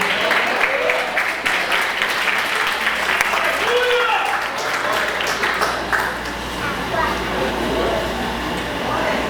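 A church congregation applauds in praise, a broad sustained wash of clapping mixed with voices and a low hum, continuing steadily throughout.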